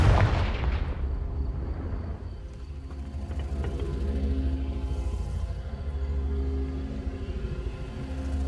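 Confringo fire spell blast in Hogwarts Legacy, a heavy booming impact at the start that decays into a low rolling rumble, followed by softer swells of rumbling ambience.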